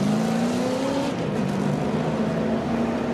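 NASCAR Nextel Cup race car rolling down pit road at Texas, a steady droning engine note with gently rising pitch, loud and continuous.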